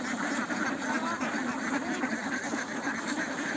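Farm ducks quack steadily at feeding time, a dense, continuous chorus of overlapping calls from a flock close by with no talk over it.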